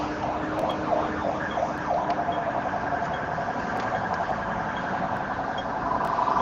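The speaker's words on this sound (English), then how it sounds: "Follow up with a lot of police cars." Wailing police car sirens rise and fall over a steady engine rumble at a Hong Kong protest, fairly close, with no talking.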